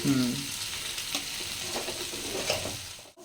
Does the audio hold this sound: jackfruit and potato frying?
yes